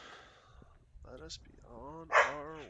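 A dog barks from inside the post-apocalyptic game Encased, a short yelp and bark mixed with the in-game voice of someone speaking over it, fairly faint and brief.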